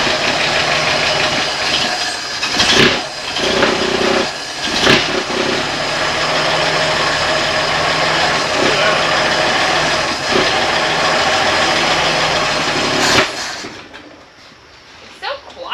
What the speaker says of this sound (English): Like, crank it like you're gonna start it.